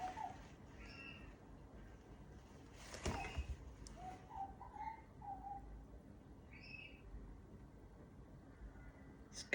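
A bird answers whistling with faint, scattered chirps and short tonal calls. The calls sound distant and soft over a quiet outdoor background, with one brief louder rustle partway through.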